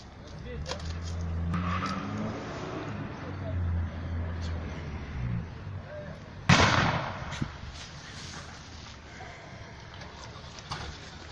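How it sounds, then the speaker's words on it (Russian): A low engine rumbles steadily for several seconds while voices talk nearby at a burning school building in Kansk, then a sharp bang rings out as the engine fades into background noise. "У кого-то двигатель идет."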